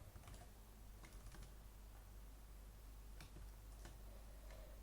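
Code being typed on a computer keyboard while setting up an Arduino MEGA32U4 sketch, heard as quiet, irregular key clicks in short bursts over a steady low background hum, with no talking.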